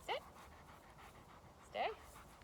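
An 11-month-old Deutsch Langhaar dog pants close by during fetch training. The breathing is quiet and steady, and two short, higher-pitched rising sounds stand out over it.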